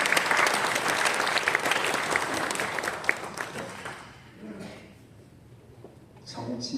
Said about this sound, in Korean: 우리 다시 한번 영광의 박수 드리겠습니다